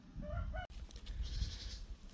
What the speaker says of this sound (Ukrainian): Я виганю качок, покажу, як вони тут кайфують.